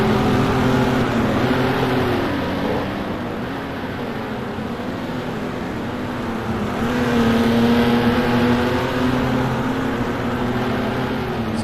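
1960s Formula 1 race cars at a Patriot Grand Prix vintage race, engines droning loudly and steadily with shifting pitch as cars pass and accelerate, no talking.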